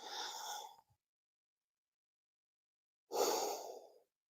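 Two long, audible breaths during a power yoga backbend class: one airy exhale, a pause of silence, then another full, close breath out, each lasting under a second.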